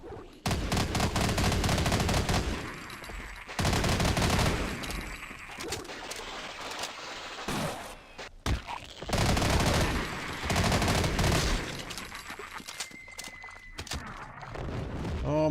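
Gunfire in the Half-Life shooter game, loud bursts of rapid automatic shots in several long volleys with short pauses between, harsh and close, alone without talk.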